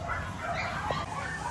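Dogs at a breeding farm kennel, including large breeds such as Alaskan Malamutes and Golden Retrievers, give faint, brief barks and yips against a steady background of farm noise.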